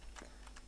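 A brief burst of a few quick, soft keystrokes on a computer keyboard, faint and close, with no talking.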